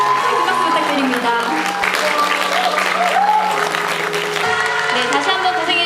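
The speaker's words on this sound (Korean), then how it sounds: "여러분 큰 박수 부탁드립니다" Audience clapping at a youth volunteer corps closing ceremony, a steady dense applause filling the hall throughout while an amplified announcer speaks over it.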